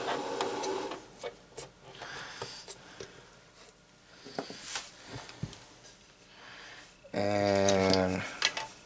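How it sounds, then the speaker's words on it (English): A Dremel rotary tool on its low setting, powered through a Stanley 1000 watt inverter, spins up near the end as a short, steady, buzzing whine after a stretch of scattered handling knocks and clatter. "Let's try a Dremel tool. And we're going to put it on the low setting to start"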